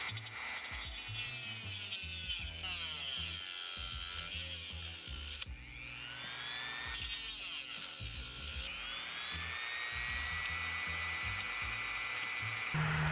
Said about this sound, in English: I'm just using these standard little Dremel cutoff discs.